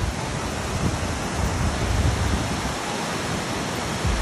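Waterfalls of the Devil's Canyon in Santo Domingo roar as a loud, dense, steady wash of falling water that fills the whole clip with no talking.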